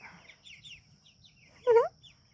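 Meat chickens in a yard give a few soft clucks, then one louder, sharper cluck or squawk stands out near the end, with faint background noise throughout.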